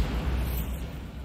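Bombarda spell exploding in the Hogwarts Legacy video game, a deep rumbling blast with heavy low-end boom that decays over about a second, loud and close.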